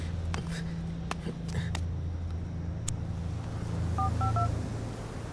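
A phone is dialed to summon an ambulance, with a few short electronic keypad tones near the end heard faintly over outdoor wind noise, broadband rumble and a couple of sharp knocks.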